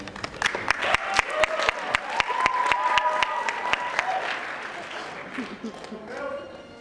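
Crowd applause greets a contestant walking onstage at a men's pageant. Dense clapping builds and holds for several seconds, then dies away, with brief voices and crowd noise mixed in near the end.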